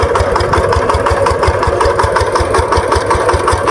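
A tractor engine running steadily while onion seed is sown in a field, a loud, close, continuous throbbing drone with a regular low pulse and no talk.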